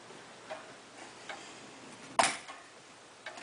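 Soft regular ticking from a Herschede hall clock, broken by one sharp, gritty click and scrape as the chime selector is forced back, then quiet ticking again.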